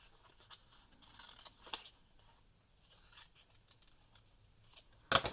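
Scissors snip through paper while a postcard is being cut, giving a few soft scattered cuts and then one sharp, close crunch near the end, with no talking.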